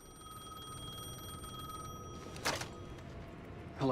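A telephone rings in Alan Wake 2, a steady electronic bell tone that fades out, followed by two sharp louder bursts near the end, without talk.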